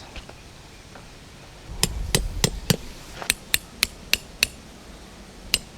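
Crisp hammer blows strike metal tent stakes in two bursts of evenly spaced hits at a campsite, with a single last tap after a short pause, clear against faint outdoor background.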